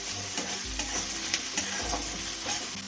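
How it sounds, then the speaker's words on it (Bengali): Chopped onion, crushed garlic and ginger fry in a pan for a cutlet recipe. The sizzle is steady and close, with soft scraping stirs every so often and no voices. "হালকা লাল করে ভেজে নেব।"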